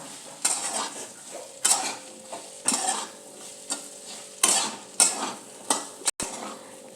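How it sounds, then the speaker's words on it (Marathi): Spiced okra (bhendi) fries in hot oil in a kadhai over medium heat, with a steady sizzle and repeated scraping strokes of a spatula against the pan at an irregular rhythm, close and fairly loud, with no talking. "आता आपण ह्या तेलामध्ये फ्राय करून घेऊयात. चांगलं खरपूस होईपर्यंत भेंडी परतू घ्यायची."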